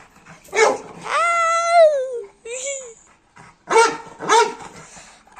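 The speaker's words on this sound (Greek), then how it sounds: "Εδώ πέρα αυτός που γαυγίζει είναι ένας σκύλος μου." A pet dog barks and whines in fear at a tortoise, with several close, loud yelping barks coming in bursts and short pauses between them.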